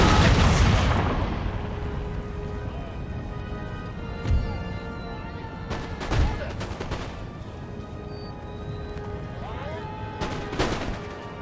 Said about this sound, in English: Artillery! Open fire!